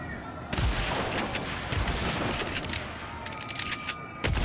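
Rapid bursts of gunfire and booming shots fill a fight in the video game Agents of Mayhem, dense and continuous with several heavy blasts punctuating the chatter of weapons.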